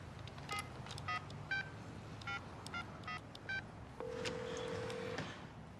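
A telephone keypad is dialed, about ten short beeping DTMF tones in an uneven rhythm, followed by a longer steady dial tone, quiet and close under faint room background.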